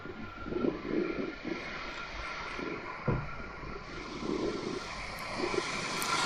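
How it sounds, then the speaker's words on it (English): An Airbus A350 lands smoothly in Amsterdam, its engines a steady, fairly distant roar that holds throughout with slight swells and no voices. "This Airbus A350 pilot making a super smooth landing in Amsterdam."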